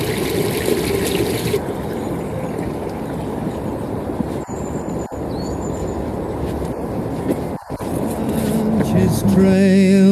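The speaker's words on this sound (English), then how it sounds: "There's something really calming about the sound of water, isn't there?" Flowing water along a riverside trail, a steady rushing wash that stays loud and continuous throughout, with brief bumps and handling knocks.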